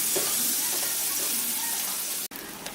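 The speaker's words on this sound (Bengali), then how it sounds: "পেঁয়াজটাকে একটু ভেজে নিচ্ছি তেলের মধ্যে।" Onions frying in oil in a pan give a constant close sizzle with faint scraping, broken by a brief sharp knock near the end; no one speaks.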